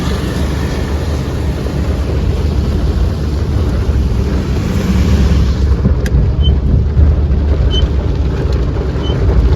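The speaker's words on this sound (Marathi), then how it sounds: "पाऊस किती सुंदर चालू आहे" Heavy rain pours down in a dense, steady roar, with wind buffeting the microphone throughout.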